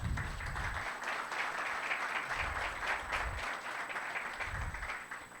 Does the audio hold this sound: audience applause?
yes